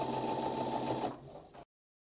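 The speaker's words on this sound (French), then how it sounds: "j'ai déplacé mon aiguille pour piquer à 1 cm du bord et je ne vais pas commencer par une marche arrière" A domestic sewing machine stitches fabric 1 cm from the edge in a steady fast whir that slows slightly near the end and then stops abruptly, leaving silence.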